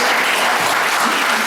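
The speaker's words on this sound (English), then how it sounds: "let's give her a nice round of applause" A small crowd at a community photo mural dedication for a one-room schoolhouse claps in a brief, dense burst of applause, steady and fairly loud from start to finish.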